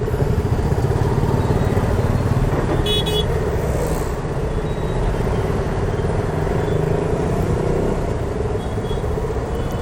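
Steady city road traffic near Marina Beach, Chennai, with engines rumbling throughout and a brief horn toot partway through, close and continuous.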